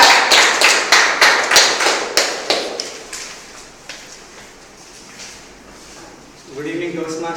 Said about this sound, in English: Please have a clap.